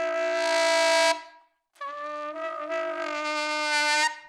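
A saxophone sustains a high altissimo note played with the airflow gradually sped up. Two long tones are separated by a brief silence, and both sound bright and buzzy, close and loud.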